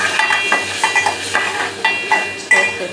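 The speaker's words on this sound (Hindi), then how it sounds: "थोड़ा सा फ्लेम तेज करेंगे और अच्छे से फ्राई करेंगे।" Onions with garlic ginger paste frying in a pan for chicken jalfrezi, close sizzle under repeated rhythmic scrapes and taps of a spoon stirring the pan.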